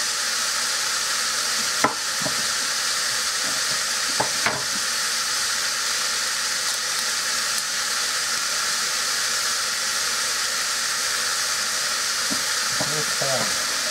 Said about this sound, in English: Throw these mushrooms in there with it. Now I'm going to start my onion.